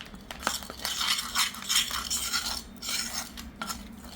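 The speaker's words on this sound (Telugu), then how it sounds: "అందుకని చెప్పి కలుపుతున్నాను నేను ఒకసారి చూడండి" A spoon stirs and mixes a thick hair pack paste in a bowl, making close, continuous scraping and soft clinking in a steady back-and-forth rhythm, with no talking.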